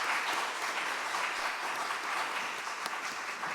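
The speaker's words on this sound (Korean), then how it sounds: "우리 친구들의 격려의 박수 하겠습니다." A church gathering gives a steady wash of encouraging applause for middle school youth after their hymn, continuous and fairly soft throughout.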